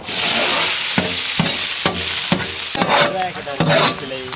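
Chopped onions sizzle loudly in hot cold-pressed sesame oil, with steady crackling and the occasional scrape of stirring, close up and without talk.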